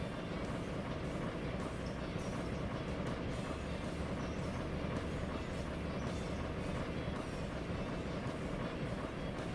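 A big diesel freight train rolls along in the modded Railroader video game, giving a continuous low rumble and rattling wheel noise, steady and faint throughout with no voices.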